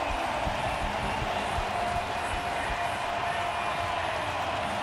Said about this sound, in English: the crowd have found their voice once again